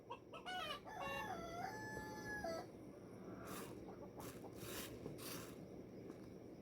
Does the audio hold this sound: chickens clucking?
yes